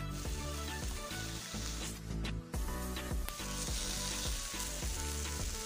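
Cheese toasting in a hot pan while being moved in circles to brown on all sides, giving a steady, loud, dense sizzle that runs without a break.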